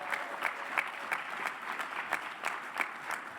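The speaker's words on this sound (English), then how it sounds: "Give yourselves a round of applause." Audience applause at a union legislative political conference, steady dense clapping with a few sharper peaks, fairly distant and moderate in level, with no talk over it.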